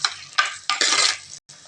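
Tomatoes are sautéed in a pan, with close, loud sizzling and spoon scraping in short bursts, a brief silent gap, then more stirring.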